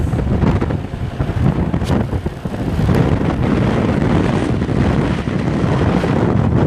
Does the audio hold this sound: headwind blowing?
yes